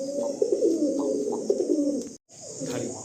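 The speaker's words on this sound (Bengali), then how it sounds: "আপনারা কিন্তু দেখছেন ওয়েস্ট বেঙ্গল ফেমাস একটা জেনারেশনের পায়রা" Chotial pigeons from West Bengal coo nearby in rolling, repeated throaty calls over a steady background hum that briefly cuts out.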